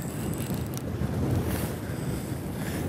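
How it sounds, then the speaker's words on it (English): Strong easterly wind on a Labrador fishing water buffets the microphone in a continuous, loud, gusting rush with low rumbling and no voices. "We've got a lot of wind today, easterly wind, which makes tough fishing."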